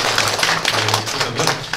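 Church congregation applauding during a Sunday morning worship service, a dense and steady patter of many hands clapping at close range that holds evenly for the whole stretch with no voices over it.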